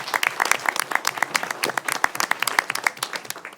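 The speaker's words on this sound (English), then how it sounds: "be recognized with a round of applause" A round of applause from an audience, dense overlapping hand claps sustained throughout at a steady, lively level with no voices on top.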